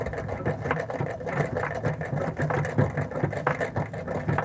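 A treadle sewing machine runs continuously during free-motion quilting, a close, fast, rhythmic mechanical clatter of needle strokes that holds steady throughout with no voices.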